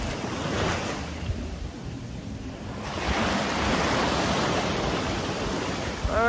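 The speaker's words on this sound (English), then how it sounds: "listen to the waterways." Ocean waves wash steadily onto a Caribbean resort beach at the Barcelo Maya Palace, a continuous broadband surf roar that swells slightly midway, with some wind buffeting the microphone and no talk.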